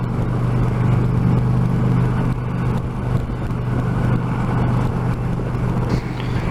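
An Indian Challenger 2020 motorcycle engine drones steadily at high revs while riding along a busy motorway, a continuous loud hum mixed with wind and road noise with no talking.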